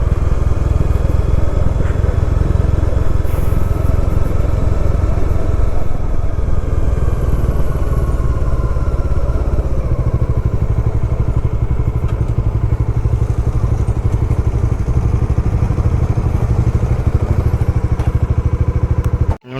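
Two motorcycles, a Dominar 400 and a KTM 390 Adventure, run their engines close by in a loud, continuous rumble that holds steady almost to the end, with no voices.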